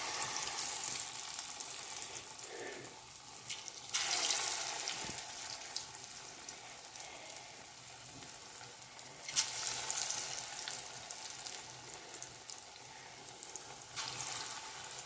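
Lentil fritters (motor dal bora) fry in hot oil in a steady sizzle, with louder hissing bursts as more batter goes in and no talk.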